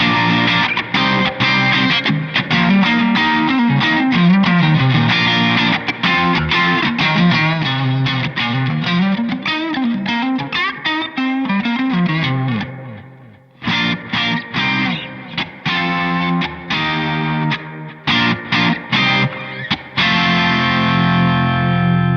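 Electric guitar through delay and reverb effects playing rapid distorted picked lines with echoing repeats and a wash of reverb that trails off during brief pauses, loud and close.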